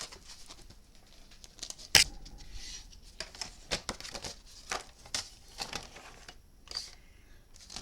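Scissors cut through paper for a handmade mini album, with a series of close, crisp snips and rustling paper at an irregular pace, including one sharp loud snip early on.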